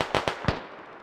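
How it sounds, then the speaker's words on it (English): Gunfire is exchanged between militia and Russian forces in the video game Squad: three quick, sharp shots crack in a ragged burst, then fade into a short echo. "Militia forces and Russian forces within about 150 meters already trading shots"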